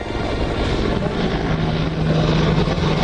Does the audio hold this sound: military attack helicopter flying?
yes